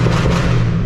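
A 5th gen Camaro with a straight piped exhaust gives a brief, very loud, deep rumbling roar, close and steady for under a second, with no voices.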